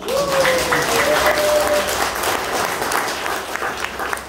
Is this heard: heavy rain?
no